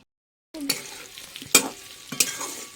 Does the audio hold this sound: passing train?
no